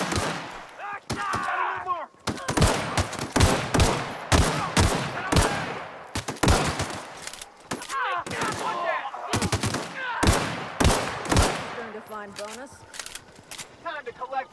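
Gunfire in the video game The Outer Worlds comes in sharp, rapid bursts and single shots that repeat across the whole stretch, loud and close, with a voice talking between the volleys.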